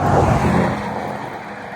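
A car passes along a road beside a bike route toward a canyon, starting loud and close as a broad rushing whoosh, then fading into a softer engine rumble as it moves away.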